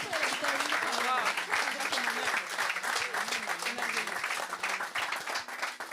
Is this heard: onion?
no